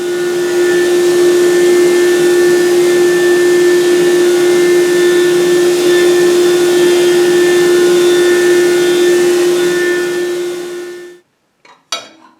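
A table saw rips wooden shelves in a workshop, a loud, steady motor whine with a strong constant hum running for about eleven seconds before cutting off abruptly, followed by a few faint clicks.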